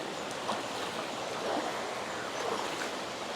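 A small waterfall along a forest trail to Twin Falls pours steadily, a continuous broadband rush of falling water close by, even and unbroken, with no voices.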